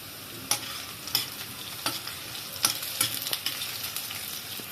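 Finely chopped ginger and green chili, added after minced garlic, sizzle softly in a pan for street-style cabbage Manchurian, with a spoon scraping at a steady, repeated rhythm against the quiet crackle.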